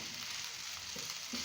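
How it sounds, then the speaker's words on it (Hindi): Onion frying with ginger-garlic paste in a pan, heard as a steady, even hiss of sizzling oil close up, with a faint stir partway through and no voices. "अब हम इसमें अदरक लहसुन का पेस्ट डाल देंगे और इसको थोड़ी देर के लिए भूनेंगे"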